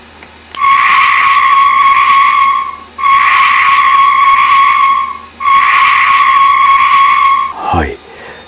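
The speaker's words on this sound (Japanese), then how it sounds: "キングジョーのあの声っていうのかな、作動音っていうのか、はい、それがよく再現されてますね" An Ultraman King Joe light-up toy figure plays its electronic operating sound: three loud, sustained buzzing mechanical tones with brief gaps between them, ending in a short falling sweep, close to the microphone and without talk.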